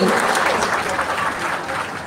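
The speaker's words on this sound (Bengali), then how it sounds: "জোরে করতালি চাই" A crowd in a hall in Belbari, Tripura, claps loudly and steadily at a government event attended by the Chief Minister, with the applause fading slightly toward the end.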